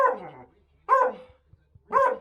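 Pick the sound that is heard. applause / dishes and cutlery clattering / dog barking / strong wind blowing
dog barking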